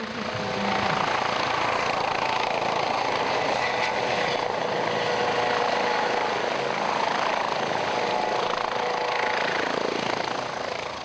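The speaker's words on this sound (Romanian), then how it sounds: "Demonstrațiile elicopterului Smut și acrobațiile aeriene ale piloților de la aerocluburile Craiova și Clinceni au făcut deliciul publicului." A helicopter flying during an air show demonstration, a loud, continuous rotor and engine roar heard near and steady for the whole stretch, with no talk over it.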